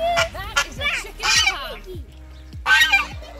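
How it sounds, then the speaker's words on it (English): Poultry at a large chicken farm on a family farm park outing, with loud gobbling and honking calls in repeated bursts close by, and a few quieter gaps between them. "That is the biggest chicken farm."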